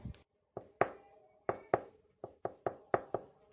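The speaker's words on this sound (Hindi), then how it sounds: "उसने अपने घर का दरवाजा ठोका।" Knocks on a house door come in uneven clusters of sharp, hollow raps, about ten in all, close and fairly loud with short pauses between, no voices.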